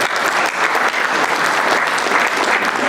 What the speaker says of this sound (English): give applause to this gentleman